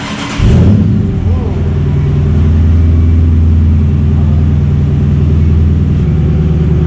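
A 5.7L V8 engine starts and then settles into a loud, deep, steady rumble through an exhaust with the mufflers removed. It holds a sustained idle rather than sharp revs, heard close up with no talk over it.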